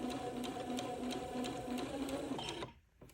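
Sewing machine stitching a bias strip onto an antique baptismal gown, a steady close mechanical whir with a rapid needle rhythm running for most of the time before stopping abruptly near the end.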